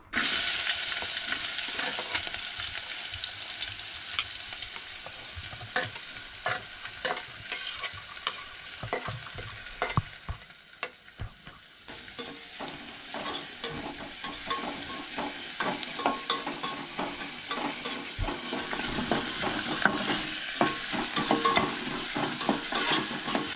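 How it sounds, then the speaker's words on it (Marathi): Chopped onions fry in hot oil for a silver bar fish curry, giving a continuous close crackling sizzle with scattered pops and a brief dip in intensity midway. "कांदो बरो तळसून घेवंक जाय"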